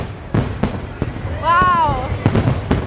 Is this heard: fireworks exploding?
yes